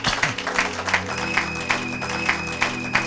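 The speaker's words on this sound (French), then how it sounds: "Acclamons pour la gloire de l'Éternel notre Dieu." A church congregation applauds in rhythmic clapping that keeps a regular beat, mixed with sustained organ or keyboard tones and a murmuring crowd, fairly loud and reverberant.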